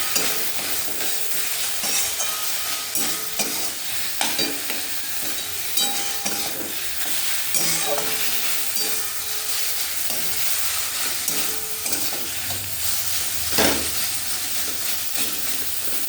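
A banana flower, potato and fish curry cooks in a pan, with steady sizzling and frying hiss and intermittent stirring scrapes throughout, no voices.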